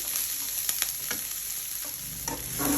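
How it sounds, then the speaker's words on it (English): Onions frying in oil in a pan, a steady broadband sizzle with a few sharp scraping and stirring clicks, close and moderately loud with no talking. "And fry it till it's mediumly fried, slightly golden yellow"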